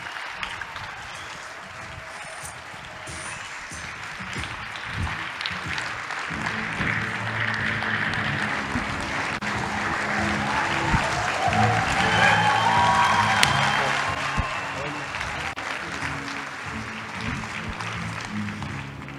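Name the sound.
audience applause welcoming the captain onto the stage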